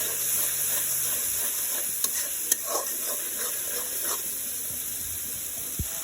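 Spice masala with turmeric, chili, coriander, salt and garam masala is stir-fried in a pan for liver curry, giving a steady close sizzle with occasional scraping clicks of the spoon against the pan.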